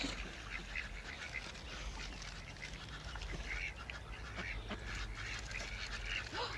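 A crowd of ducks quacks continuously outdoors while a child feeds them bread, giving a busy, overlapping chatter of calls that is moderately faint and dense.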